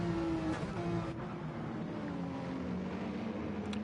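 Racing engines from a Gran Turismo endurance championship race, with a Mustang among the cars, drone steadily and loudly as cars run side by side. The roar holds throughout with no break.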